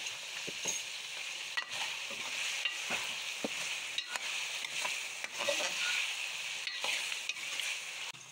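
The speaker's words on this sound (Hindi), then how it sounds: "अच्छी तरह से भूनेंगे अदरक लहसुन के पेस्ट में इसको।" Chicken fries in ginger garlic paste with a steady sizzle and intermittent scraping and stirring clicks from a spoon in a pan, continuous and close, no talking.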